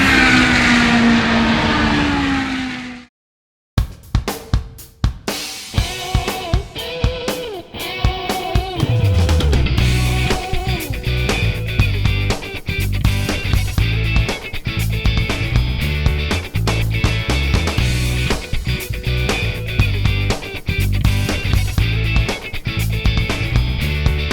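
Ferrari race car engines roar and rev loudly at the 2016 Ferrari Finali Mondiali, with repeated sharp throttle blips and passing whines building into continuous high-pitched engine noise after a brief silence.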